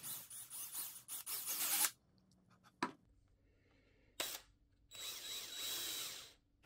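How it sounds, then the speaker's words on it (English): A high-pitched rotary tool whines in several bursts of a few seconds each as a drill bit bores eye sockets into a rat wakebait lure body, broken by quiet pauses and a couple of sharp knocks. "I drill out some material with a drill bit for eye sockets."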